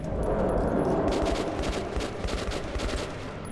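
Rapid bursts of Kalashnikov rifle fire in Metro 2033 Redux, dense and continuous, loud and close over a rumbling background.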